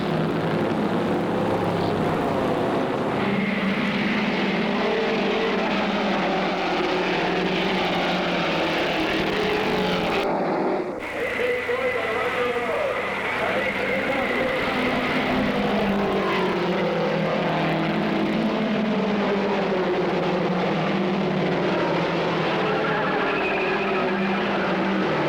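Race cars at the 1963 Indianapolis 500 roar steadily around the track in a dense, continuous wash of engine noise, with a brief dip before the sound swells again.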